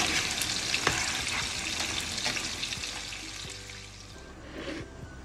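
Green chilies and onion stir-fried over high heat, a steady loud sizzle with scraping stirs and clinks that eases off slightly toward the end.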